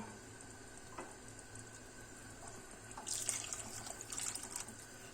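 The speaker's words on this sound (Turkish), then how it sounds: "ben 5 su bardağı ekledim" Water is poured into a pan holding tomato paste, a soft, faint trickle and splash that swells in the second half over a quiet kitchen background.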